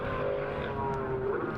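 A race car engine holds a steady, sustained note with slight throttle variations, fairly loud and continuous with no voices, during a race at Jerez.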